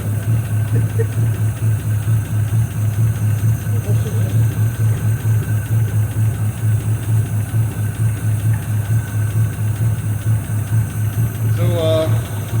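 A 1953 Buick Special revived after 30 years in storage idles with a steady, throbbing low rumble close by, pulsing evenly for the whole stretch before a brief voice near the end.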